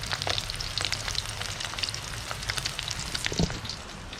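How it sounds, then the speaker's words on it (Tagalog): Steady crackling sizzle of tinapa (smoked fish) frying in a hot pan, with constant popping and spitting of oil throughout. "yung tinapa nating ulam. Ayan, prito na."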